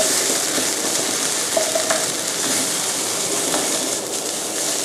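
Thai chili paste ingredients with bird's eye chilies stir-fried in a pan, a steady loud sizzle and crackle with scraping stirs throughout, close and continuous with no voices.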